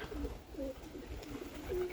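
Soft, low pigeon coos repeating a few times, fairly quiet against light background noise.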